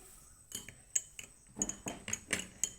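A spoon stirs a drink in a glass, giving a quick series of light metallic clinks and taps, close and fairly quiet, with brief gaps between strokes.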